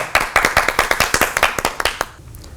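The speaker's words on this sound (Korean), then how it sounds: "다시 한번 박수." At a church lecture, an audience claps in a quick, fairly even rhythm of about a dozen and a half close claps, which fade off and stop shortly before the end.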